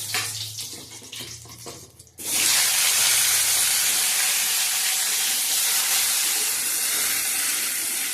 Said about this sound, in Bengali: ভাজতে ভাজতে একটু ছবি তুলে রেখে এবার আলু ভাজবো